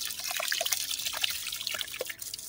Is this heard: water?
yes